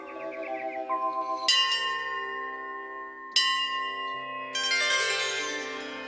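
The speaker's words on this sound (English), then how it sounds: "you wake up to the sound bells or devotional songs or chants" Bells in a Hindu temple ring out in separate loud, resonant strikes, three main rings at intervals, each followed by a long shimmering decay, with softer melodic tones before the first strike.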